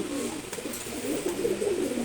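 Maksi pigeons cooing nearby, a continuous low, throaty burbling that rises and falls over about two seconds with no talk.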